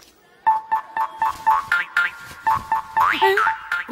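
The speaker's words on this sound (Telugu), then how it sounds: "సార్ మీకు ఫోన్ వచ్చింది." A mobile phone ringtone plays in a comedy film scene as a quick, bright, bouncy electronic melody of repeated short beeps and rising tones, fairly loud and close.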